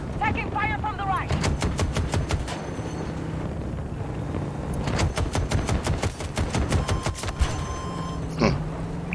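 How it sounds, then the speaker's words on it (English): Rapid automatic gunfire bursts in the video game Battlefield 2042, loud and repeated across the scene with sharp cracks, some wind-like noise and a brief voice in the background. "Taking fire from the right."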